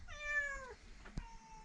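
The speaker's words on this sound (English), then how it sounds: "We've got Orange Cat letting himself in." An orange cat gives a single drawn-out, falling meow close by, followed by a soft thump and quiet rustling in an indoor barn conversion.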